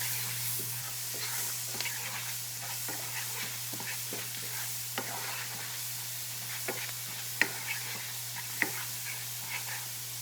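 Onion sears in a hot pan with a continuous crackling sizzle and scattered scraping and knocking as it is stirred, close and fairly quiet, no voices.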